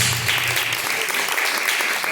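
Worshippers in a church service clap in praise to God, producing brief, dense and fairly loud applause throughout.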